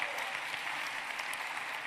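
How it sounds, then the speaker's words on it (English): Dense, steady applause from an audience at an in-person town hall, continuous clapping filling the room at even loudness with a faint murmur of voices underneath. "Let Jeff know he got a lot of applause tonight"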